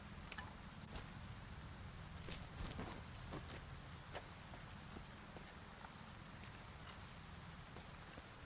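Steady rainfall in S.T.A.L.K.E.R. 2: Heart of Chornobyl, a quiet continuous hiss of rain with scattered drop and patter ticks, alone without voices.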